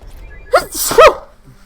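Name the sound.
sneeze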